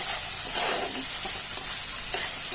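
Chicken pieces with boiled cabbage sizzling and frying in a pan, a steady loud hiss with scraping stir sounds, close up and without talk.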